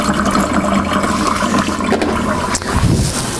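Water gushes down a flooded RV sink and drains through the P-trap, a loud close rushing and gurgling flow with sputtering bursts, no talking.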